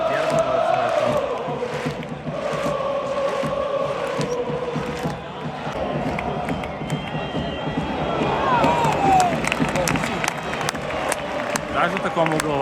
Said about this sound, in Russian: Даже такому угловому аплодируют.